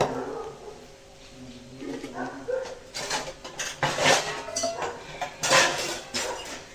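Cooked food being moved into another pot, metal utensils scraping and clinking against the vessels in a run of irregular knocks that grow busier toward the end.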